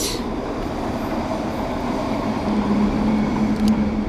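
A Voltbike Metro Plus electric scooter running under throttle, a steady broadband whir and rumble with a faint rising whine near the end, close and continuous with no talk.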